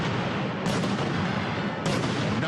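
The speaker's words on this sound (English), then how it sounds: "It's the firing of the cannons." Cannons fire twice, about a second apart, each blast a sharp boom that sits within a dense, continuous roar of background noise.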